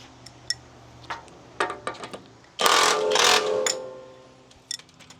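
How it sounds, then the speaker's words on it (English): Bolts coming out of a 1989 Marmon truck with hand tools, scattered metallic clicks and taps, then a loud continuous burst of an air tool for about two seconds, followed by a few more faint clinks nearby. "We'll take those bolts out."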